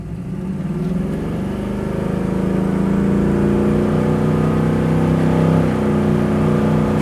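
A 1967 Chevrolet Camaro SS engine runs close and loud, a deep steady idle rising into a sustained rev that holds a strong, rumbling drone throughout with no talking.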